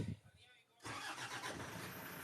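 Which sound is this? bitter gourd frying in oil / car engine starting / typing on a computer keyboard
car engine starting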